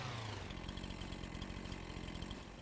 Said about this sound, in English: Move very slow with the chainsaw.